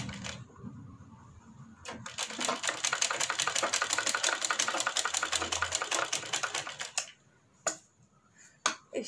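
A sewing machine stitches seams on a sleeveless kurti, a fast, even run of needle strokes lasting several seconds, framed by short bursts and a few separate clicks before and after.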